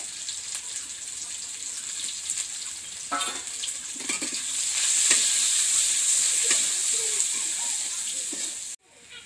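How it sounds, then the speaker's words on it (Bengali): Onions frying in a hot pan or wok give a steady, bright sizzle and hiss that swells midway and runs throughout, with a few soft clinks and stirring sounds underneath. "এখন দিদি কড়াতে পেঁয়াজ দিচ্ছে।"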